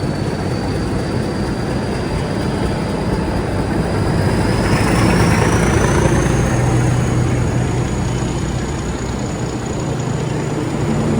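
Express train arriving at a Mumbai CST platform during the monsoon, a steady loud rumble with a high whine that gradually rises in pitch, with no talk.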